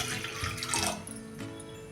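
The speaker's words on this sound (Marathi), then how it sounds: "तर हे तीन वाट्या पाणी मी टाकून घेते" Water splashes and trickles steadily into a cooking pot of rice and whole mung beans for a couple of seconds, a close, continuous pour with a brief louder gush midway.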